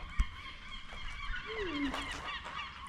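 Seagulls calling at Fort Popham in Phippsburg, Maine: a few faint, honking bird cries, including one rising and falling call, over a soft outdoor background with a brief knock near the start.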